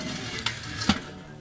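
Smoked pork spare ribs on an SnS grill get spritzed, two quick hissing spray bursts about half a second apart over a low background hiss.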